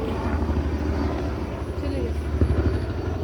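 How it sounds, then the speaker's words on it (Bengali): A helicopter flying overhead makes a steady low rotor drone with a faint chopping pulse, heard at a distance under people talking nearby. "বলেছিলাম না এদিকে যে হেলিকপ্টার যাবে, শুনছেন?"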